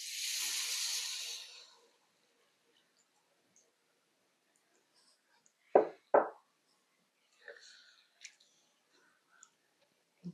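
Vegetable broth hits a hot skillet of flour mixture for a vegan one-skillet shepherd's pie, giving a brief soft hiss of steam at the start, then quiet broken by a few knocks and clinks of utensils.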